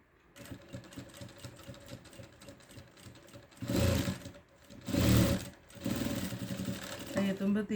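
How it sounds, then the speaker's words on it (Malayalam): Sewing machine stitching two pieces of fabric together in bursts, a rapid mechanical chatter swelling in short runs between pauses, close by and moderately loud. "രണ്ട് ഭാഗവും നമുക്ക് നല്ലോണം ചേർത്ത് തയ്ച്ചു കൊടുക്കാം"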